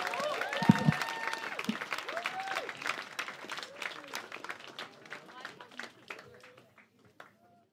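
Comedy club crowd applauds as a comedian takes the stage, a burst of clapping with voices over it at first, then thinning out and tapering to scattered claps.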